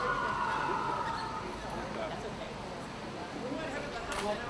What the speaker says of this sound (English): I speak over the sirens.